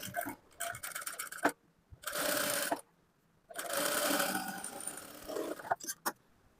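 A sewing machine stitches a folded half-inch hem on cut fabric in two close, loud bursts of rapid whirring, with ticking handwheel clicks and pauses between runs.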